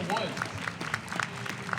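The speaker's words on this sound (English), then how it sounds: "All that clapping you hear is, of course, from the other stream" Faint scattered clapping from a crowd at a Tetris championship drifts in the background beneath someone commentating, sparse and distant rather than a full ovation.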